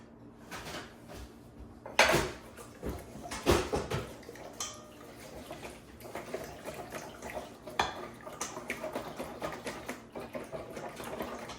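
Yeast being stirred into ingredients in a mixing bowl for a homemade meal, with irregular clinks, scrapes and knocks of a utensil against the bowl, several louder hits early on, then softer continuous mixing close by.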